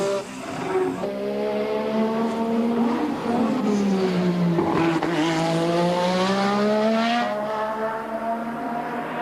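A Formula 1 V6 turbo race car drives on track with a loud, sustained engine note that rises and dips as it accelerates and shifts, continuous throughout.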